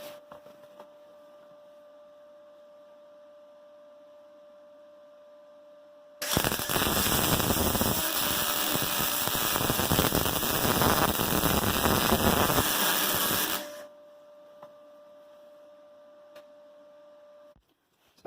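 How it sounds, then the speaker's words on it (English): Welding bead laid to plug a hole in a car's passenger side outer sill: a steady crackling, hissing burst lasting about seven seconds, loud and close, framed by quieter background hum before and after. "I'm just going to plug the hole with weld."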